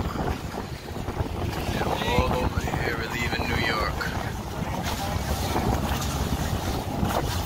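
Ferry crossing the lake from Ticonderoga, New York toward Vermont, loaded with motorcycles: a steady low rumble of the boat's engine under constant wind buffeting on the microphone, with a brief voice partway through.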